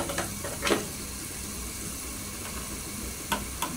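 Ground spices sizzle as they hit mutton leg pieces in a hot pan, with a steady soft hiss and a few brief stirring scrapes, fairly quiet and close with no talking.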